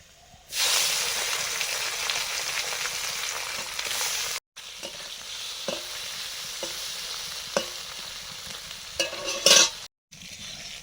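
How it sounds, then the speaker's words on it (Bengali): Small fish fry in mustard oil in a pan with a loud, steady sizzle and hiss. The frying cuts out briefly and then resumes, broken by occasional clicks of stirring close by. "প্রথমেই ছোট মাছগুলো ভাজছি।"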